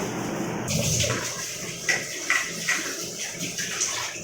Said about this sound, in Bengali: একটু ধুতে হবে চিড়েটা ধুয়ে তারপরে